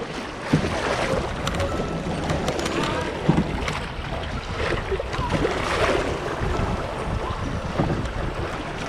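Kayak paddling through choppy river waves on the Dunajec, with steady rushing water and wind buffeting the microphone, occasional splashes and voices of paddlers talking over the noise.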